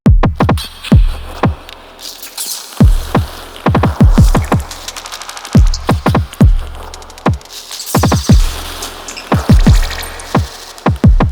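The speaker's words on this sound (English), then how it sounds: "So to start off, the drums from that song sound like this." Punchy synthesized drum hits from a modular synth, deep booming kicks and crisp noisy percussion, play in a repeating groove throughout, loud and up close without voices.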